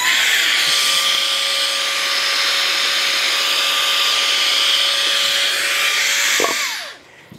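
A Grabo High Flow vacuum lifter runs with suction on a material through a 300 by 300 mm faceplate, giving a loud, steady whooshing roar with a thin whine; it drops away abruptly near the end.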